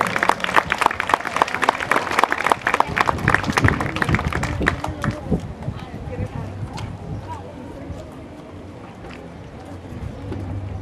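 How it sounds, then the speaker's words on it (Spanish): Audience applause at a sixth-grade school closing ceremony, a burst of scattered clapping that thins out and fades after about five seconds, leaving quiet room murmur and a faint voice. "Un aplauso para ellos, por favor."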